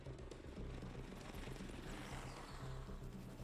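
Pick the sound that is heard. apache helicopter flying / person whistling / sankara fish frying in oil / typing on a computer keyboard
apache helicopter flying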